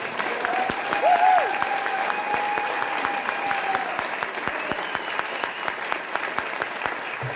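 Sustained applause from an audience at a Youth of the Year 2024 show, honoring the candidates; steady dense clapping fills the room throughout, with a brief tonal sound near the start.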